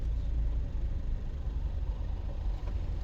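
A car rumbles steadily at close range while driving, a dense low-frequency drone with a faint rattling texture running through it and no voices.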